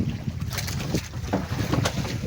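Steady wind noise buffets the microphone while lake water slaps and sloshes against a small fishing boat rocking on the waves, with irregular knocks throughout.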